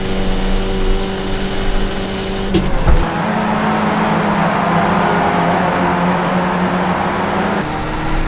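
A race car engine in the iRacing sim at Summit Point Raceway drones loudly and steadily, with a sudden shift in pitch a few seconds in as the gears change.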